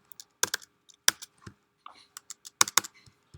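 Keys clatter on a computer keyboard during a programming lecture on recursion. The taps are irregular and close, with some sharper, louder strokes mixed among softer clicks.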